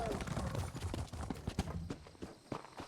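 Horse hooves clopping loud and close in an irregular walking rhythm, with a few sharp strikes among softer thuds and a voice speaking in the background.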